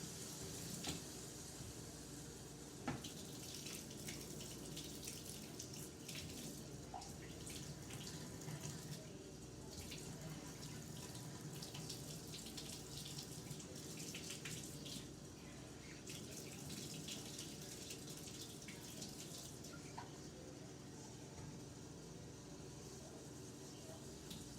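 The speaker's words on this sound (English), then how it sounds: "I'm gonna get some warm water" Warm water runs steadily from a kitchen tap while dinner rolls are being made, a continuous close splashing gush that lasts throughout.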